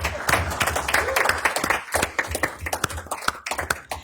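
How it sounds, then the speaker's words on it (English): A room at a county commissioners' meeting claps for an honoree, dense clapping with sharp individual hits throughout, fairly close and steady without fading. "let's give Artie a round of applause"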